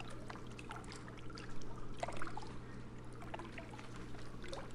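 Flowing water in the outdoor moose and bear hunting levels of Hunting Unlimited 2001: a steady trickling, burbling stream with small splashes, moderately quiet over a constant low hum, with no talking.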